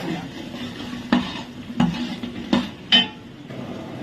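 Dried coconut stirred and fried in oil in a pan, with a soft steady sizzle broken by several sharp clinks and scrapes of the spoon against the metal, close and fairly quiet.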